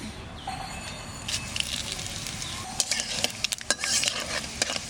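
Dried chilli, bay leaf and five-spice sizzle in hot oil in a pan. The frying hiss is steady and close, and in the second half it is broken by clinks and scrapes of a spoon stirring against the pan.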